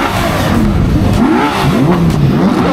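A Ferrari engine revs hard and loud, its pitch sweeping up and down in repeated surges, close by with no talking.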